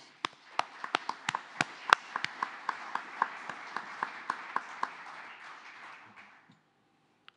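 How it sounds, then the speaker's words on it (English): Studio audience applause at a recorded radio show, a dense wash of clapping with sharp individual claps standing out, building then fading away over about six seconds before silence. "Please give a round of applause."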